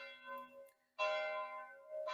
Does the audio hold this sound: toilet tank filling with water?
no